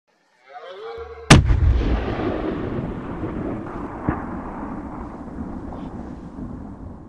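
Single loud rifle shot during a red deer hunt in Poland, a sharp crack that rolls into a long booming echo, with faint rustling before it.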